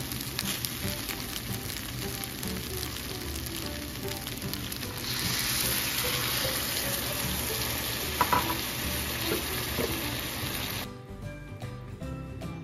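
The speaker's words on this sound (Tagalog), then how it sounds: "pwede na natin lagay yung ating chicken broth" Chicken broth going into a seafood paella pan, a steady loud sizzle and bubbling hiss that swells partway through, then cuts off abruptly near the end.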